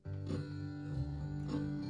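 Bluegrass rhythm guitar plays a syncopated boom-chuck pattern slowed to half speed, its strummed chords ringing in a steady, stretched pulse with a few accented strums, close and alone.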